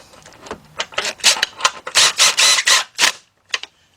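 Cordless impact wrench with a 16mm deep 3/8-drive socket snugging bolts on a Nissan engine during head gasket work. Close, loud bursts come in quick, uneven succession, then a short final burst after a pause.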